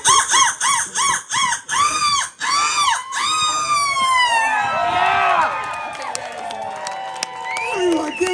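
A person imitates a seagull's screech at a seagull screeching contest on Ocracoke Island, NC, giving a series of loud, rising-and-falling wails that stretch into a long, wavering scream, with a crowd cheering beneath.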